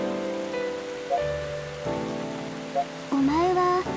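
Steady rain falls in the video game Pandora no Yume, a continuous soft patter running beneath tonal game music and short chimes.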